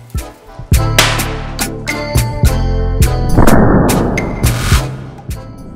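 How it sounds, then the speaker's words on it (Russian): A small firecracker set on Lego plates goes off in a sharp, loud bang, followed by several more pops and crackles nearby, with no talking. "Итак, начнем первое испытание, взяв небольшую петарду."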